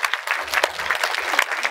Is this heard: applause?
yes